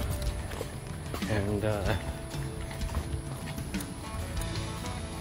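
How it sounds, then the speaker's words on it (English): Horses walk along an outdoor trail, their hooves clip-clopping in an irregular rhythm close by while people talk over them. "We're riding horses."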